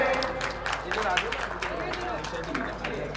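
An audience at the National Conference of Dalit Writers claps in a dense, steady patter of applause while a voice talks over it through the hall.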